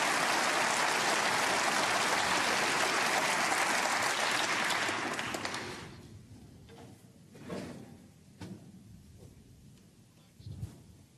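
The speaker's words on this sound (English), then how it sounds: "Had some more applause there" Applause from a snooker audience at the German Masters, a dense roar of clapping that fills the first half and then fades away, leaving a few scattered knocks and faint handling noises.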